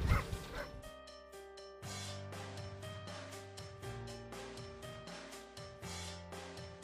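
Dogs bark in a fast, steady series of loud yaps while they leap into cold water during a water rescue demonstration outdoors, with the barking continuing through a constant background hum.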